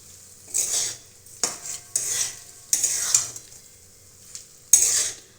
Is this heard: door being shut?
no